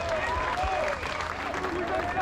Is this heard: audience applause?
yes